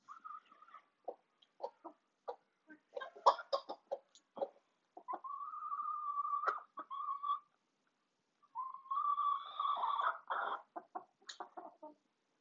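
Soft, irregular clucking from hens close by while eating cooked tuna before bedtime, with short bursts and a few longer trilling calls between quieter moments.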